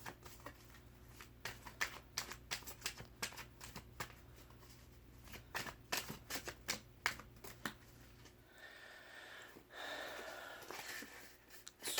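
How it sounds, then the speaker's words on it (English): Rapid papery riffling of tarot cards, in bursts of quick clicks and flutters, close by, with a softer bridge-like whoosh near the end. "Just gonna do 3 more shuffles."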